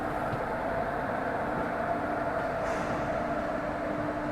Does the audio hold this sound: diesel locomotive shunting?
yes